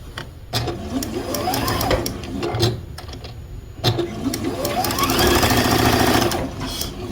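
A sewing machine stitching quilt pieces runs in steady mechanical bursts, a close, buzzing rhythmic whir that speeds and pauses, with faint voice in the background.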